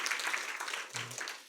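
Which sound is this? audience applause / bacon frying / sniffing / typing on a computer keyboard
audience applause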